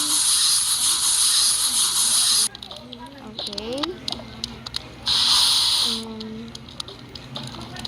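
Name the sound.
spray bottle spraying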